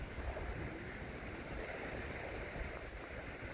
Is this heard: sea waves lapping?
yes